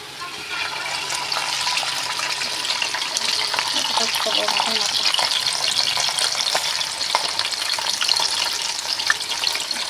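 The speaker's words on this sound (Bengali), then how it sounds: "কড়াইতে তেল দিয়ে দিয়েছি, এখন মাছের মাথাটা দেবো।" A large catla fish head fries in hot oil in a wok with a dense, continuous sizzle and crackle and occasional stirring scrapes, close and fairly loud throughout.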